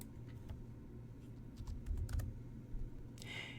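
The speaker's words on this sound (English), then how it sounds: "Above the word ounces, type in 120." Quiet clicking of fingers typing a short entry on a computer keyboard, a few light scattered keystrokes over a low room hum, with a brief bright rustle near the end.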